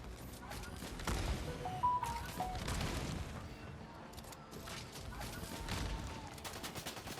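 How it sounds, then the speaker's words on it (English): Gunfire in Fortnite Zero Build as a player shoots from up top at others below, scattered shots and bursts over game ambience, moderately distant and fairly quiet. "And there's players down there that he's now shooting at, up top"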